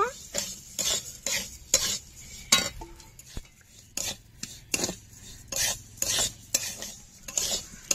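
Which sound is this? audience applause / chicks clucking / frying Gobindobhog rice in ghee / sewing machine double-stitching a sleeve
frying Gobindobhog rice in ghee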